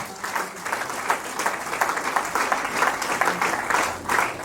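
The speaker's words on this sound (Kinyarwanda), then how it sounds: "Komera Imana amashyi menshi." Sustained applause from a church congregation, steady and fairly close with a dense rippling texture of many hands clapping throughout, no talk over it.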